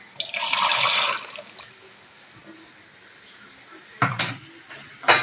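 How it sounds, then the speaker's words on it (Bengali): Water splashes and pours into a pan of ghugni curry. Shorter splashes and the clatter of utensils follow near the end. "এবার আরেকটু ভালো করে ধুয়ে জল দিয়ে দেবো"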